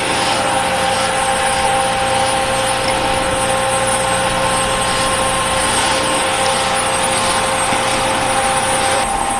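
A drone hovers overhead at the SpaceX Starship launch site, a steady, loud rotor whine and engine hum over constant wind rush, continuous and unbroken throughout.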